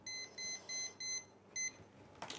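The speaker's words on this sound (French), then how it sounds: "Moi, je vais mettre mon petit minuteur." A small kitchen timer beeps in a quick run of short electronic pulses with brief gaps, moderately loud, in a cooking class kitchen, followed by a soft clatter at the end.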